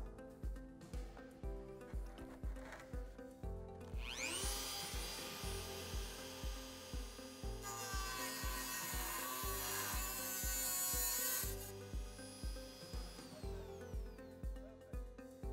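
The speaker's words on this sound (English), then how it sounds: "now I'm going to just use this Dremel with a cutting wheel and cut it out" A Dremel with a cutting wheel cuts out a piece of corroded metal. The high whine spins up, holds steady for several seconds, then winds down, with a repeated ticking rhythm running underneath throughout.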